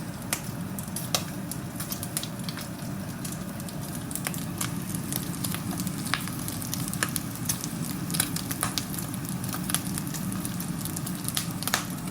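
Pork sizzles in a very hot wok for braised pork, a dense continuous frying hiss scattered with sharp crackles and spits, close and steady with no talk.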